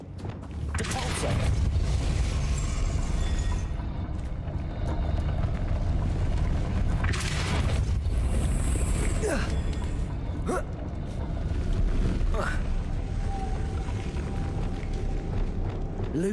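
Depulso spell effects in the Hogwarts Legacy video game sound as rumbling whooshes and booming bursts, with several sharp cracks in sequence over a loud, continuous game background.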